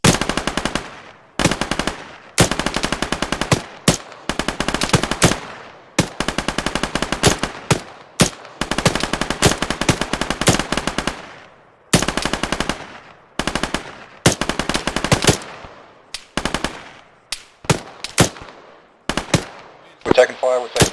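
Bursts of automatic gunfire crack out in rapid strings during an assault, loud and close, separated by brief pauses, with a few voices talking over the shooting near the end.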